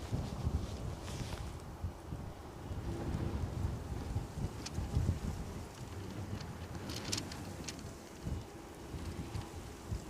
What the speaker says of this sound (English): And the wind is getting up.